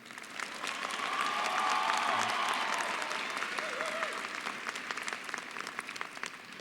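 Applause from a high school graduation audience honoring the senior class sponsor, a broad steady wash of clapping that swells early, holds, then thins into scattered claps toward the end.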